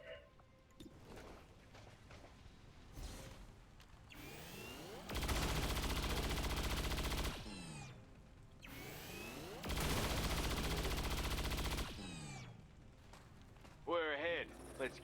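Rapid-fire gunshots in XCOM 2 Long War of the Chosen come in two loud, dense sustained bursts separated by quieter game sounds and sweeping tones.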